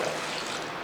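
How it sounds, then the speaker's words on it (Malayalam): Water poured into a steel pot of broken jaggery for melting, a short, steady splashing pour heard close up with no voices over it. "കുറച്ച് വെള്ളം കൂടെ ഒഴിച്ച് കൊടുക്കുക"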